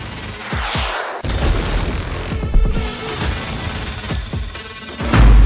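Repeated booms and crashes of missile strikes on Ukraine, several heavy blasts scattered through the scene with rumbling between them.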